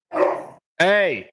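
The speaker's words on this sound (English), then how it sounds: "sorry about my dog." A pet dog gives two barks in a room at home, the second a longer, strained yelp with a rising and falling pitch; a brief spoken word overlaps the first.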